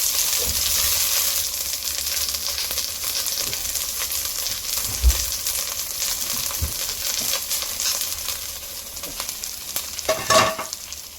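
Ginger and onion fry in hot oil for a home-cooked fish dish with tausi, giving a steady, close sizzle and hiss with occasional clinks and stirring scrapes.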